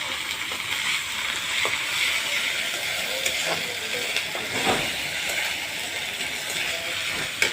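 Ginger, garlic and cumin paste frying in a pan with chopped onion, oil and green chilli, giving a steady, close, even sizzling hiss with faint scrapes and no voices.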